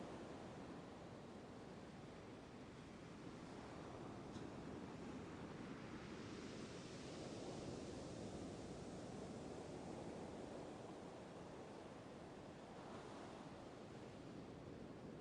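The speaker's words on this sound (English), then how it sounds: "allow the gentle sound of the waves to lull you into a peaceful slumber" Gentle ocean waves wash in a soft continuous hiss with slow swells rising and falling, quiet and distant, with no voices.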